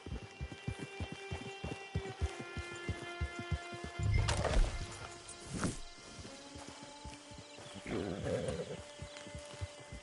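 Horse hooves clip-clop steadily in a GTA video game, a run of even, close thuds at a walking pace layered with a held musical tone, with a few louder bumps and rustles breaking in partway through.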